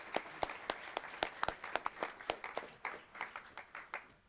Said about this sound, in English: Let's give one big round of applause for all of our pitches this evening